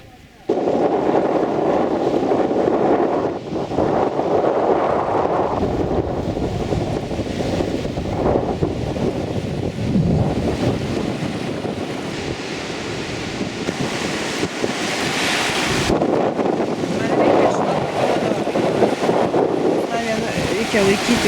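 Wind buffets the microphone along the Baltic shore at Kolka, Latvia, near a forest and campsite, a loud continuous roar mixed with the wash of sea waves that swells and eases throughout.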